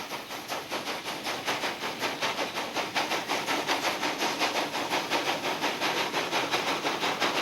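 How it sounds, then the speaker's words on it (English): A steam locomotive works the cane fields around an Indonesian sugar mill, chuffing in a steady, rapid rhythm of hissing exhaust beats that grow slightly louder, close and without voices. "the country comes alive with steam locomotives working the cane fields"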